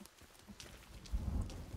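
Rain falls in the survival video game Sons of the Forest, a soft steady patter joined by a low rumble partway through, faint and unbroken.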